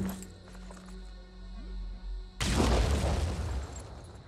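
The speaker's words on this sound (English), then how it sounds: "Well, the grenade did hit. We did some damage. Blew a big chunk out of the wall." After a quiet stretch of low rumbling, a grenade detonates in the Blood and Titanium video game, a sudden loud broadband boom that trails off into crackling debris.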